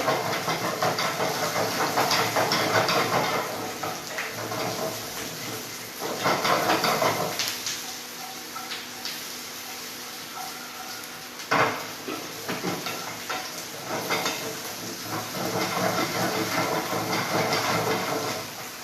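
Small onions and coconut sizzle in a hot pan, a steady loud hiss that swells and dips as the pan is stirred, with the occasional clink of a utensil.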